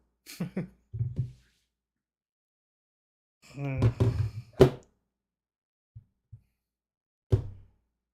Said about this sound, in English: opening the door, closing the door.